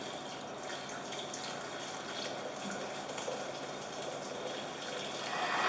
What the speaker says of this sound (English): And then 380 mils of boiling hot water.